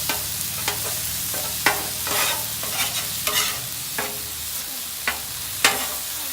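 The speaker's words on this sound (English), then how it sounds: "So I'll take this second spatula here and just cut that apart into smaller pieces" Steak sizzling on a griddle while two spatulas chop it into smaller pieces, a steady hiss punctuated by repeated sharp metal scrapes and taps.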